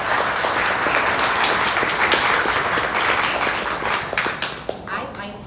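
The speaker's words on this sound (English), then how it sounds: "Let's give another wonderful round of applause to our" Applause from the crowd at a political fundraiser, a full burst of many hands clapping close by that gradually thins out, with voices audible near the end.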